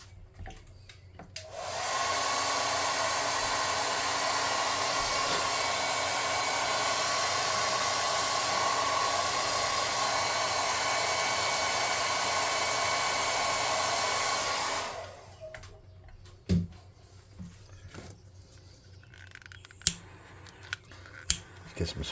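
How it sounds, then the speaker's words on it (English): A hot air gun blows loose debris off a model, making a loud steady whooshing roar for about thirteen seconds, then it cuts off and faint clicks and handling noises follow. "I'm going to blow this off with the hot air gun off camera real quick, just to get some of this extra loose stuff loose."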